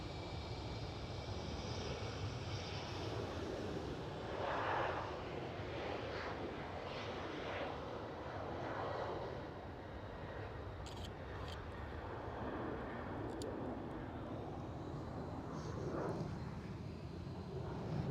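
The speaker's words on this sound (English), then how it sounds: "E190 departure" A KLM Cityhopper Embraer E190 departs Schiphol in Amsterdam, its steady jet roar holding for the whole stretch at moderate distance, rising and falling a little as it climbs away.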